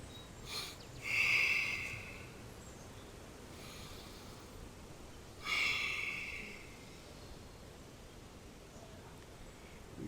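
Two deep breaths drawn in during an exercise routine, each a soft airy hiss of about a second, spaced several seconds apart against quiet background hiss.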